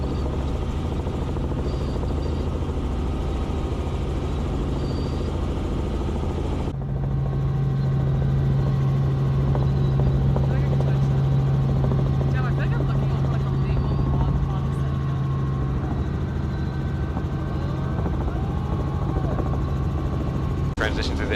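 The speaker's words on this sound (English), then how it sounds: "Check us out in the yellow helicopter." Yellow helicopter in flight over Boston, a loud, steady rotor and engine drone from inside the cabin that continues throughout, with a sustained tone emerging midway.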